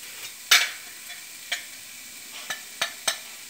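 Chopped capsicum sautéing in a pan for a paneer pizza, with a few scattered scrapes and taps of a spoon stirring over a faint background sizzle.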